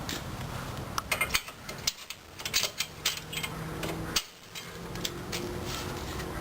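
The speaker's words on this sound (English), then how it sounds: "I reinstall the convenience latch." Metal latch on a double-decker trike hitch rack being refitted, a series of close mechanical clicks, clunks and ratcheting taps in an irregular rhythm, loud and alone.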